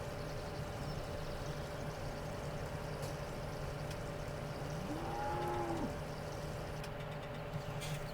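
Cattle moo in the Farming Simulator 17 video game: a single drawn-out moo rises and falls midway, over a steady low engine-like hum of the farm scene, with no talking.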